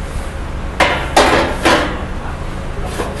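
A removable plastic part being pulled off a coconut milk machine for cleaning, giving three sharp knocking clicks close together followed by a fainter tap, loud and close with a faint hum underneath.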